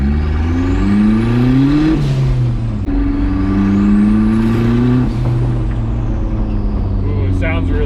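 A turbocharged Nissan truck with an exhaust leak revs loudly and close, its engine pitch climbing twice in sweeping pulls and easing back between them, and a voice speaks briefly near the end.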